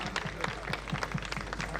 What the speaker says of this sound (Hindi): गुरु जी के लिए ताली मारो सब लोग